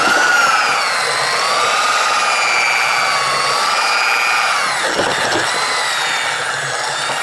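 Car polisher spinning a polishing pad with compound on paint, a loud steady whine that wavers in pitch as pressure shifts, dipping briefly midway, with no talk.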